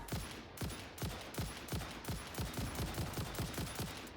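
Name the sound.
gunfire from guns in the video game Satisfactory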